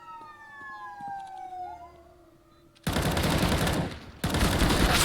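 Siren wailing with a gliding pitch behind a game caster's microphone during a CS:GO match, fading through the first few seconds before a loud burst of dense gunfire-like noise from the game takes over.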